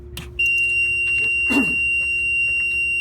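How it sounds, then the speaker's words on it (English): A vehicle's low air pressure warning alarm, a steady high-pitched electronic tone, sounds continuously after a brief pause, loud and close, with faint low engine hum and small clicks beneath. "with the ignition on, you'll get the proper alarms going off"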